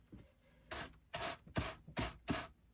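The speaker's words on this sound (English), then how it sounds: "That's the metal teeth of the carding cloth and the burnishing brush coming together." The metal teeth of a drum carder's carding cloth rub against a burnishing brush in five or six short, rasping scrapes, evenly spaced and faint, with no voices.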